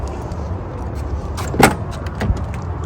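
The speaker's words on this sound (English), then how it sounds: "let me go ahead and open the hood of this truck" The hood of a 20-year-old Toyota Tundra V6 pickup is opened, with a soft rustle, one sharp latch clunk and then a fainter second thunk, over steady background noise.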